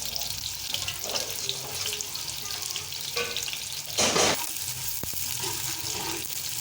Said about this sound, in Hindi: हमने 2 प्याज काटी थी दरमियानी साइज़ की, ये देखें हम इसमें ये डाल, इसको अब हम फ्राई करेंगे